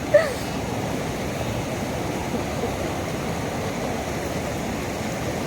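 Water rushes steadily on both sides of a wooden plank bridge, making a continuous close hiss without a break.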